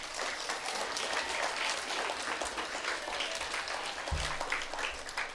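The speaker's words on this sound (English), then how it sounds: "Give yourselves a round of applause." A crowd at a school D.A.R.E. graduation ceremony applauds steadily, a dense wash of many hands clapping that holds at an even level throughout.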